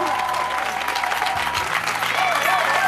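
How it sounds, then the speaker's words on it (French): A church congregation at a Sunday service applauds the Lord, with steady, dense clapping running throughout and voices mixed into the crowd noise. "Est-ce qu'on peut acclamer le Seigneur?"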